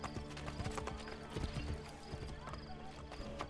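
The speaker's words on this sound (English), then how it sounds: "Call the horse." Hooves pound in a quick, steady gallop from a horse in the Assassin's Creed Brotherhood video game, moderately quiet and close, with light talk mixed in.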